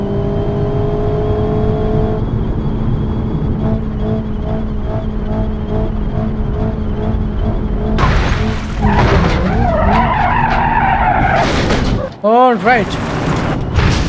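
A Rolls-Royce car falls and crashes in a crash test: rough scraping and impact bursts break in midway over a steady engine drone, ending in a sharp final hit, with someone talking throughout.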